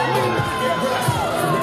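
A crowd at a wrestling event in the Bronx, a dense continuous roar of cheering and shouting voices, loud and close throughout the short stretch.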